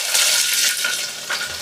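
Mustard seeds, cumin, curry leaves and chopped onions sizzle loudly in hot oil in a pan, a dense close crackle and hiss with small pops, with no talking.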